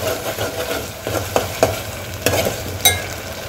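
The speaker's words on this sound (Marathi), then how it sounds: "इथे हे वाटण आपण छान परतून घ्यायचं आहे." A ground masala paste frying in oil in a pan for a Maharashtrian drumstick curry, a low continuous sizzle with several distinct spatula scrapes and taps as it is stirred, close up and without speech.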